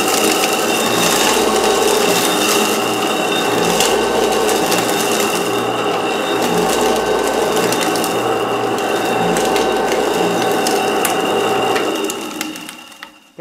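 A TiltGrind cremulator grinding cremains makes a loud, steady mechanical grinding and crushing noise with a rhythmic ratcheting pulse, running continuously before cutting off near the end.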